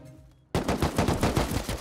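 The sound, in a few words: turret firing bullets in a video game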